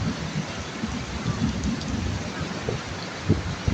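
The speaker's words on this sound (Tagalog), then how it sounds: "Grabe, lakas ang ulan, no?" Heavy rain pounds a roof in San Ildefonso, Bulacan, a dense, steady roar with occasional louder splashes and thumps, loud and continuous throughout.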